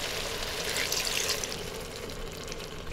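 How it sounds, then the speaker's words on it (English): Liquid pours steadily into a pressure cooker holding sliced pork belly, a close, continuous splashing trickle that runs unbroken for a few seconds with no talk over it. "And pour in the rest"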